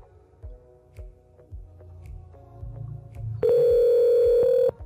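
A Zoiper softphone placing a call from version 3 to version 5 on a SIP PBX: a few faint clicks and ticks, then a loud, steady electronic dial tone that holds for about a second and a half before cutting off.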